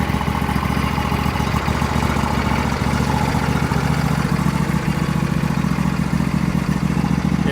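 A 2004 Troy-Bilt 809H garden tractor riding mower idles steadily with a low, even engine drone and faint mechanical clatter, close by and with no talking.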